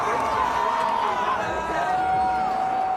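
Large crowd at the X Games Aspen ski big air event cheering and whooping in a steady, loud wash of noise, with a voice and babble mixed into the roar.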